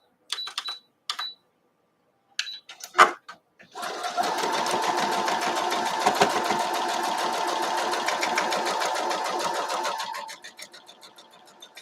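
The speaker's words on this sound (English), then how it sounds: "I wanted it shorter, so I just sewed right over that stem where I wanted it." Domestic sewing machine stitching quilt fabric in a steady rapid run of several seconds, close and loud, preceded by a few short clicks and handling noises and ending as the stitching slows.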